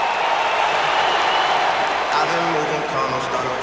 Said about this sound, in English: listen to the crowd. They love this guy